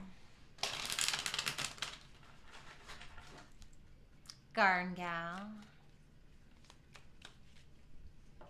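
Tarot cards shuffled in quick riffling bursts, close and crisp, followed by a short spoken phrase and quieter card handling afterward.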